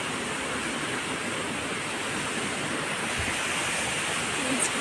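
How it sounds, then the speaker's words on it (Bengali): River water in the Rongo river valley near Kalimpong, North Bengal, rushes steadily as a dense, unbroken roar that stays even in loudness throughout. "জলের যে আওয়াজ কন্টিনিউয়াস একটা ছান ছান ছান ছান সেম হতেই থাকছে"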